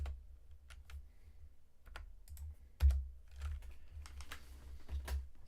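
Typing on a computer keyboard, with scattered, irregular keystrokes close by, plus one louder thump partway through and a low background hum.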